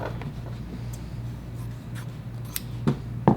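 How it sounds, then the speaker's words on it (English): Scissors make a few quick, close snips through fabric while a princess bodice is being draped, with faint handling rustle and no talking. "you might have to do a little bit of side snipping in order to get it to fit nicely"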